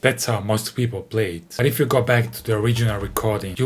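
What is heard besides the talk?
No everyday noise stands out behind the speech.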